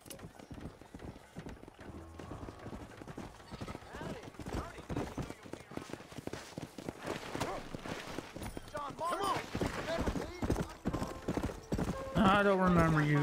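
Horse hooves clip-clop in a steady running rhythm in Red Dead Redemption on PS4, with a horse whinnying near the end and some game sounds mixed in.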